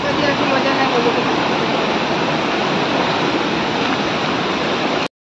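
Loud, continuous rushing of river water in Konkan, a steady broadband wash that holds evenly before cutting off abruptly near the end.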